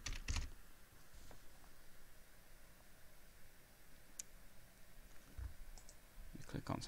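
Computer mouse clicks on a Windows 10 desktop, a few sharp isolated clicks spaced across a quiet stretch, with a voice speaking faintly in places.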